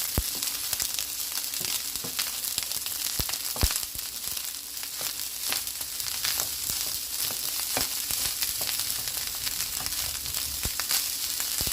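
Vegetable fried rice cooked Jamaican style in a non-stick frying pan sizzles steadily, with sharp pops and crackles scattered throughout and occasional stirring, close and continuous, with no talking.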